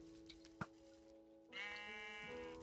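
A Minecraft sheep lets out a bleat partway through, with a second, longer wavering bleat following over steady game background tones; no talking.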